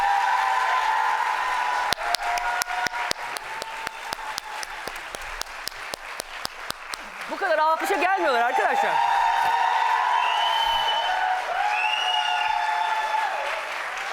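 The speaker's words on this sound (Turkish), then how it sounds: "Hadi kocaman alkış" Studio audience applause on a Turkish daytime talk show, rhythmic clapping in unison, then looser clapping under music and a person speaking.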